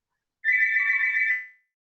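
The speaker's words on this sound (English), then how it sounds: "because the business phone was just ringing" A business telephone rings once with a single clean electronic trill of about a second, clear and alone against silence before fading out.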